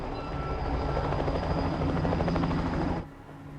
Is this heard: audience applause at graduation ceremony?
no